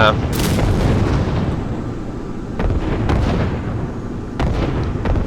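Flak gun bursts hitting an A-10 in a flight simulator, a loud continuous roar punctuated by several sharp cracking bursts at irregular intervals.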